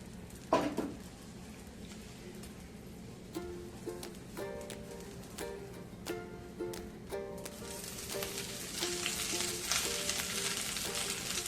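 Onion frying in oil for a kanda lasun masala, a soft steady sizzle with a sharp clatter near the start, repeated light stirring knocks, and a brighter hiss building toward the end.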